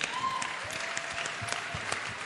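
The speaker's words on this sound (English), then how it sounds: "Let's clap our hands for..." An audience at a teen conference panel session claps together, a dense steady patter of hands at moderate distance, with a faint tone and a few stray voices underneath.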